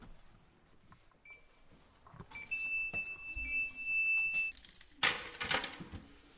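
An alarm goes off outdoors on a windy day, a thin electronic tone held for about two seconds, then a loud burst of ringing near the end, heard fairly faintly without talk.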